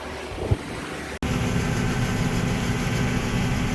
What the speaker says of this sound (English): So I'm gonna jump in the tractor